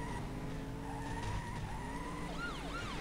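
Car tires skidding under braking in the racing game Ignition, in a Monster Truck race, with a long continuous squeal over engine drone and sharp swooping tire chirps near the end.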